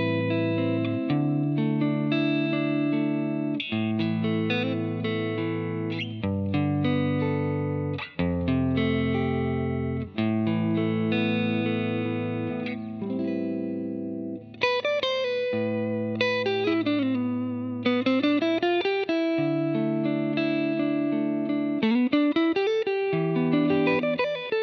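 A distorted electric guitar plays a melodic phrase targeting the ninth degree of the chord, with sustained notes and bends, steady and loud throughout with no voices.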